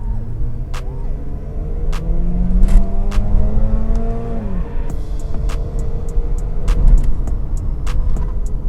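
A Mazda RX-8 sports car driving fast along a narrow road, its engine note a loud, steady drone that rises and falls under sharp clicks and knocks from the cabin.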